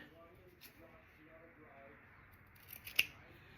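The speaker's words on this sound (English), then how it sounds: "now I'm going to trim these so they're even" Scissors trimming rag quilt fabric, one crisp close snip near the end, following a stretch where a person talks quietly.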